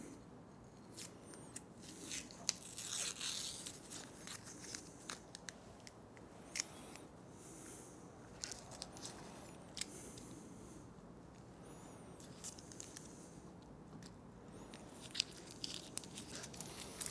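Tape being snipped and peeled off the handlebar of a 2024 Triumph Bonneville Bobber, a run of close, crisp cutting clicks and sticky crackling rips scattered irregularly through the clip, with no talk.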